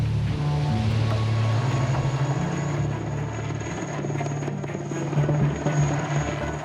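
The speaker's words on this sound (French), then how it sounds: "Dans la jungle, le balai des hélicoptères est incessant." Military helicopters fly over a jungle base in the Amazon, their rotors making a loud, continuous thrumming drone that holds steady throughout with no voices.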